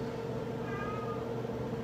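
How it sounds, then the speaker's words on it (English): A cat meows inside a garage, a clear, close call that carries over a steady low background hum. "the cat walking around in my garage."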